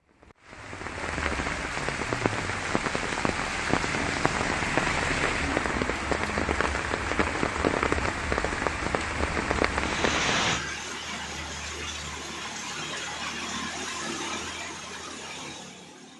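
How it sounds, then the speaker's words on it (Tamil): Sudden heavy rain pours over Sankarankovil in Tenkasi district, Tamil Nadu, as a dense, continuous hiss of drops drumming on surfaces. It eases slightly but stays steady after about ten seconds. "தென்காசி மாவட்டம் சங்கரன்கோவில் மற்றும் அதனை சுற்றியுள்ள பகுதிகளில் திடீரென கனமழை பெய்தது."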